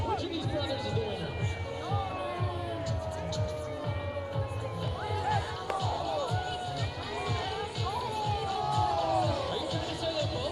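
A baseball crowd at an Oakland Ballers game against the Red Pocket Mobiles cheers and shouts steadily throughout, a dense roar of many voices with whistles and rising yells, and an announcer talking over it.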